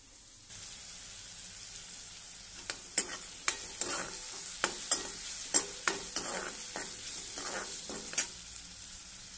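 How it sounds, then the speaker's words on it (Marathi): Chopped onion goes into garlic frying in a pan for a pea and potato curry, giving a steady low sizzle with a run of sharp scraping stirs, close and clear, with no talk. "तर हा उरलेला कांदा तोही मी आता सगळा टाकणार आहे।"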